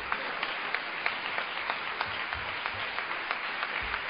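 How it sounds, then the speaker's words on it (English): An audience claps during a talk, a steady wash of many hands with a few sharper claps standing out, loud and continuous with no speech. "You can clap while I figure out what I'm going to say next."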